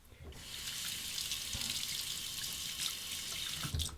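Tap water runs into a sink for rinsing off after a shave, a steady soft hiss and splash that starts after a brief pause and continues to the end, with a few small knocks.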